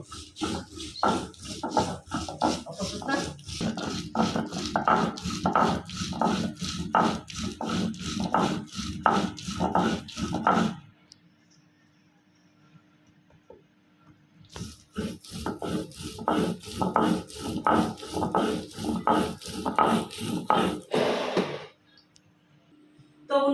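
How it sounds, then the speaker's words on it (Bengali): Red chili paste being ground by hand with dried chapa shutki fish, a steady run of rhythmic rasping, scraping strokes up close, stopping briefly partway through before resuming, with no talk. "চুলায় যে মরিচ বাটা হয়ে গেছে এখন দিয়ে দিছে ভালোভাবে এখন বাইটা নিবে"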